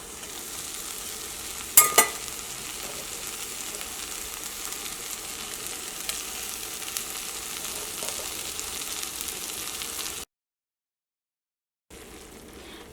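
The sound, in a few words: stirring cabbage and boiled egg curry in a pan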